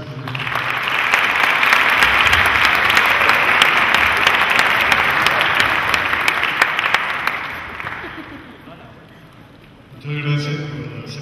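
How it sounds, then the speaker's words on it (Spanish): An audience at a Lasallian gathering gives a speaker a warm welcome with loud, sustained applause that swells, holds for several seconds and then dies down, after which a voice begins speaking. "Le damos la bienvenida con un aplauso."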